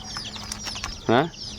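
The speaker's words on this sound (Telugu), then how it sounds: "ఇక్కడ మా నందుగాడు ఏంటంటే కోడి పిల్లల్ని చూస్తున్నాడు" A chicken gives one short, clear cluck close by, among chicks being watched at home, with faint background noise before it.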